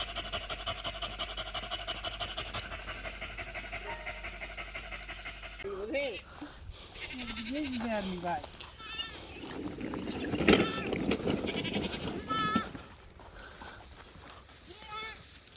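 Goats bleat a few times amid heavy panting, shuffling and movement close by, with a steady low hum in the first part.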